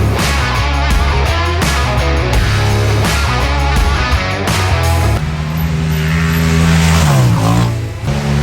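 Race car lapping a track, loud engine roaring and revving through gear changes with rising and falling pitch, close and continuous for several seconds, no speech.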